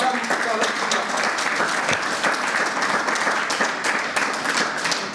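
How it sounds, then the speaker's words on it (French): Warm audience applause fills an evening gala hall in Brussels, a dense, steady wash of many hands clapping at once, loud and continuous with a few sharper claps poking through, no voices standing out. "sur vos applaudissements, Madame Charlotte Nzumba."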